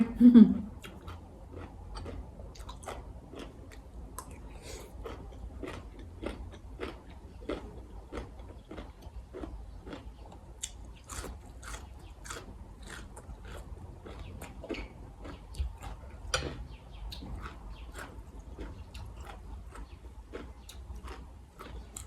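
Crisp raw vegetables bitten and chewed up close, a steady run of sharp crunchy clicks over a low background murmur.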